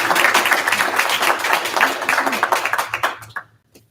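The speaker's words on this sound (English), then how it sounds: "Let's give a warm round of applause to John and Dr. Sahaf" An audience at an International Moon Day celebration applauds warmly: a dense burst of clapping that stays loud, then thins into scattered claps and fades to silence.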